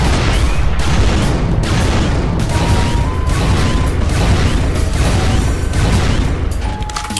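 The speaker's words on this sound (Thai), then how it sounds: "อารมณ์เหมือนปืนลูกซองนะครับ" Rapid, loud shotgun blasts fired in Minecraft during a fight against Siren Head, sustained and dense with booming impacts packed closely together.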